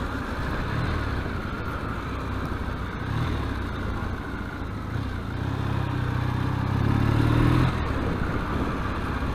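A Triumph T140E motorcycle fitted with quiet exhaust pipes rumbles along on a ride, its engine a steady low drone that swells as it pulls harder, heard with wind and no talk.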